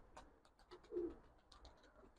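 Pigeons cooing inside a pigeon loft, soft repeated coos close by with a few light chirps and rustles, fairly quiet and without talk.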